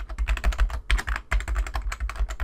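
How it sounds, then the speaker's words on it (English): Rapid, uneven clatter of keys as a password is typed on a computer keyboard, close and fairly loud with short pauses between bursts. "I'm just going to go ahead and type my password here."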